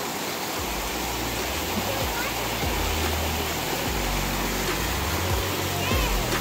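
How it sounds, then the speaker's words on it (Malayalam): A waterfall in a Californian redwood forest roars with a steady, dense rush of falling water close by, its wash unbroken throughout, with faint voices beneath it. "ഇവിടെ എത്തി വെള്ളച്ചാട്ടത്തിൻ്റെ അടുക്ക."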